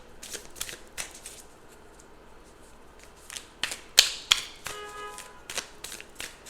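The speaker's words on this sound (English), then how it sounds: "beautiful messages from, you know, my Moonology Oracle deck" A Moonology oracle card deck being shuffled, bursts of riffling and flicking cards in irregular clusters, close and crisp, with quiet gaps between and a louder flurry partway through.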